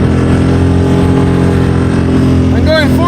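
A Tohatsu 6hp outboard motor drives a boat on the water, a loud, steady, close-up engine drone with a constant buzzing tone and faint rushing water throughout, with a person talking over it.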